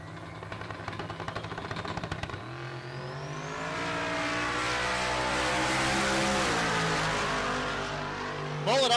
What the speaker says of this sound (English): Steve Morse, big block, twin turbos